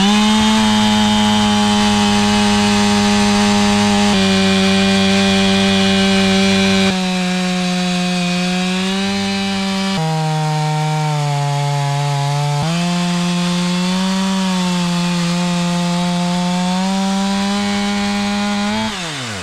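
A chainsaw mill runs at full throttle, cutting a freshly felled, rot-free tree log into live edge slabs outdoors. The engine drone is loud and close, with its pitch stepping up and down as the bar bites through the wood.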